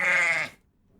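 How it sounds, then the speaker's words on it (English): A single goat bleat from a creature sound library, loud and close, a half-second wavering cry that cuts off abruptly into silence. "Goat."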